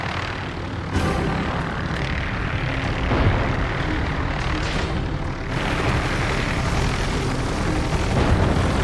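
Steady, loud propeller-engine drone from the rotor of an airship in the adventure game Jack Keane 2, a dense broadband roar holding constant throughout with slight swells and no voices.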